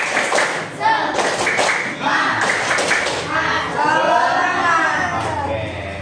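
A classroom of students performs the 'tepuk semangat' chant, sharp rhythmic hand claps in quick bursts mixed with group chanting voices, loud and close throughout the room.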